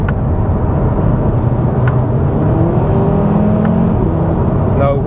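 2022 Audi RS3 in comfort mode, heard from inside the cabin while driving: a steady, loud engine drone with a low rumble and gentle rises in pitch, running continuously with a faint hum.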